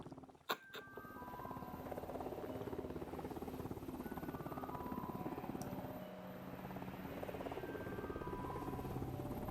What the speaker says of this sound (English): That's the sound of resurrection helicopters.